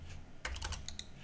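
Quick typing on a computer keyboard, a short cluster of several crisp, close key clicks in a quiet room with no voices.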